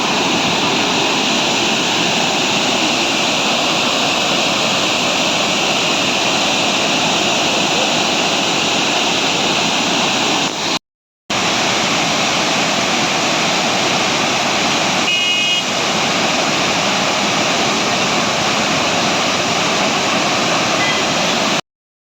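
A waterfall in the Athirappilly area roars as a steady, loud broadband rush of falling water, continuous throughout and close by, broken only by one brief dropout midway.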